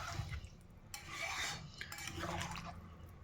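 Chicken curry stirred in a pan with a metal spatula, giving repeated scraping and clattering strokes against the pan with some wet, liquid movement, close and moderately loud, no speech.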